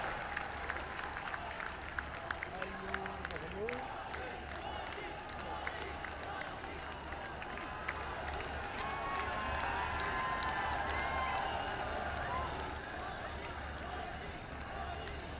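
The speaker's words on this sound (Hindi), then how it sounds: "एक बार जोरदार तालियों के साथ प्रधानमंत्री जी का हार्दिक अभिनंदन और स्वागत" A big crowd at a Dussehra gathering applauds and cheers to welcome the Prime Minister, with scattered sharp claps and a rising murmur. The noise builds into fuller, steadier applause toward the end, and some talk is heard underneath.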